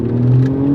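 An imported Japanese car engine revs on low boost with a steady, loud, close droning growl. The burst is short and continuous.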